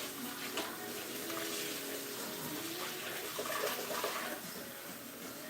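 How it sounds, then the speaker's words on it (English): Water pours steadily into a baking pan in a kitchen while unleavened bread is prepared, a continuous close splashing wash with no voices. "Go ahead and put water on that pan as well too."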